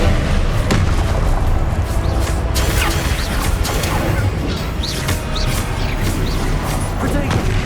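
Confringo spell explosions in the video game Hogwarts Legacy: a dense run of booming blasts and crashing impacts, loud and close, with several sharp bursts following one another.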